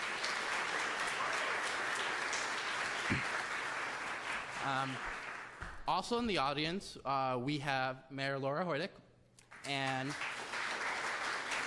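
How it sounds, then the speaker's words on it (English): Audience applause at a youth and families awards ceremony, a steady broad wash of clapping through much of the span, interrupted midway by someone speaking over a microphone before the clapping carries on. "we can give them another round of applause"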